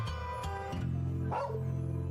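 A dog barks in the video game Trails of Cold Steel 2, with a few short yips rising over a steady background music bed, close and moderately loud.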